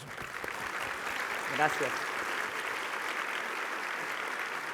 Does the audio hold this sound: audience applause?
yes